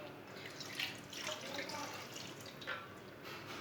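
Milk poured into a cooking pot for a biscuit sweet recipe, a soft liquid trickle and splash with brief surges, close by, while a voice talks over it.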